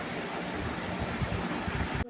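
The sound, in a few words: gas stove burner turned on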